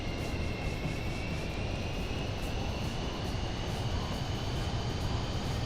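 Twin jet engines of a PC-24 business jet in Microsoft Flight Simulator 2024 spool up for takeoff, a loud, steady roar with a rising whine that fills the cabin without any talking.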